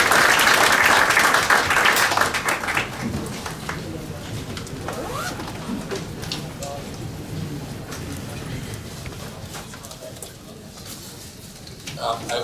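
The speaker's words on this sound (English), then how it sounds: "And let's give them a round of applause." Applause from a press-conference audience, loud and dense at first, then thinning into a lighter patter of scattered claps, with some voices and room noise mixed in under it.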